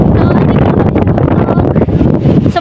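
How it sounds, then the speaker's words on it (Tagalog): Heavy wind buffets the microphone in a loud, rumbling roar, gusting unevenly across the whole short stretch. "sobrang hangin dito"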